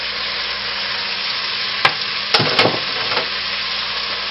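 Onion goes into a pan with browned lamb for a stew, a steady close sizzle with a few sharp scraping stirs, with no talk.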